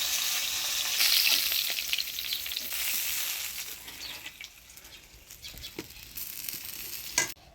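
Small chela fish fry in hot oil with dry and green chillies, a loud sizzle that gradually settles, with scattered spatula scrapes and clinks near the end.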